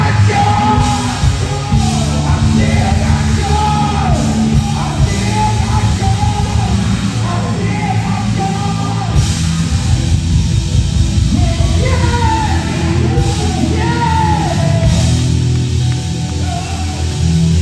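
A crowd at a live gospel performance in Charlotte, NC yells, whoops and shouts continuously and loudly, voices overlapping with music throughout.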